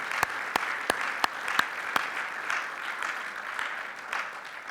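A church congregation applauds during a Spanish-language sermon. A few sharp, separate claps open the sound, then dense, fairly soft clapping continues through to the end.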